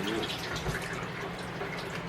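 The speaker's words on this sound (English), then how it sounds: "Can you cut the water off till I finish, Walter?" Water runs from a kitchen tap in a steady, soft hiss, a constant low rush of flow with no breaks, heard faintly in a home kitchen.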